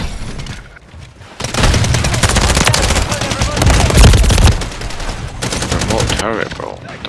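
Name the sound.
remote turret gunfire in Call of Duty MW3 video game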